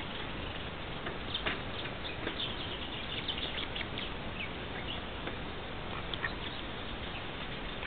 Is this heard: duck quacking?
yes